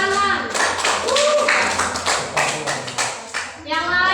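Children in a classroom clap in a patterned rhythm, a run of sharp, close bursts with short breaks between them. Young voices chant along with the claps.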